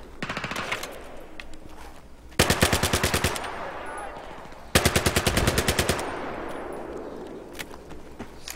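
Automatic gunfire in the Battlefield video game, with two loud sustained bursts of rapid shots standing out against a busy background of distant combat and scattered single shots.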